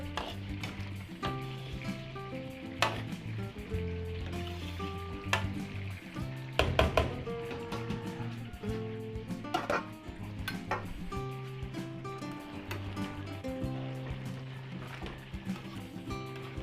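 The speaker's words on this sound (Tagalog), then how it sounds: "Haluin natin para mapantay natin pagpapalambot" Pork simmering in its own broth in a pot for a Filipino fiesta dish, stirred with a utensil that scrapes and knocks against the pot under a steady bubbling sizzle, with background music playing.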